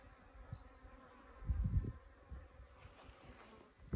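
A honeybee swarm buzzes steadily at an apiary, with louder low thumps and rustles around the middle and near the end; no talking.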